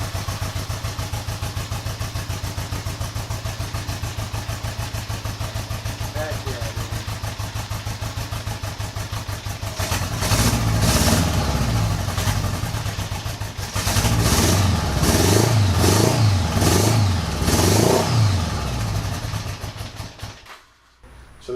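A 1975 Honda Goldwing 1000cc motorcycle engine running steadily on choke with a rapid, even idle, then revving louder in rising and falling bursts before cutting out abruptly, close and loud.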